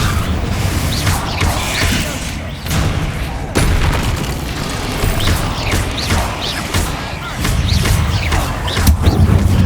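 Spell explosions in the Hogwarts Legacy video game, loud repeated booms and crashing impacts that arrive in an uneven rhythm over a constant rumbling din of combat.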